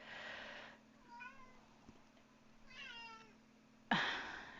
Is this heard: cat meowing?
yes